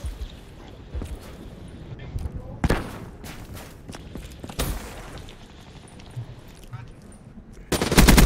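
Gunfire in the video game Black Ops 3: bursts of automatic fire and single shots crackle through a noisy match, ending in a loud close burst, with a player talking over it.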